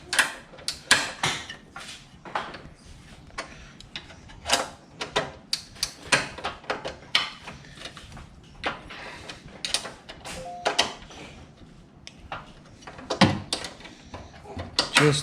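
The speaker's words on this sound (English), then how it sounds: "over here I have my 14mm wrench slash ratchet, and we're gonna go and torque them down" 14mm ratchet tightening DC Sport strut bar bolts on a turbo 8th-gen Honda Civic Si: quick clusters of sharp ratcheting clicks come in irregular bursts with pauses, close and fairly crisp.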